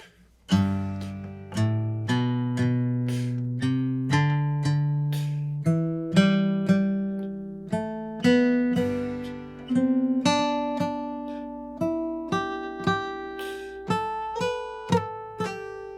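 A guitar plays a new rhythm pattern over a chord progression, with clear plucked and strummed notes ringing and decaying in an even, counted pulse, close and alone.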